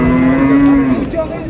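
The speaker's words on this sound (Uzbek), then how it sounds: "Yosh sigir deyaptilar mana." A young cow at the Chorshanbe livestock market in Shahrisabz gives one long, loud, close moo that holds steady, then fades into market background.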